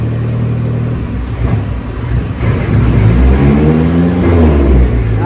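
A Nissan Hardbody turbo truck with a manual transmission revs and pulls forward onto a Mustang dyno, engine note rising and climbing loudly up close, with no talking.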